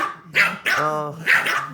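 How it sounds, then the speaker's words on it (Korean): Several dogs bark loudly and close by in quick overlapping yips, with a voice joining in among the barks. "야야 같이 짖지 말라고"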